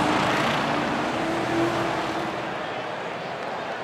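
A Nissan GTR and a 300Z racing at Brick Mountain Speedway, a steady broadband engine roar at a distance with a faint whine, fading slightly toward the end, under continuous commentary.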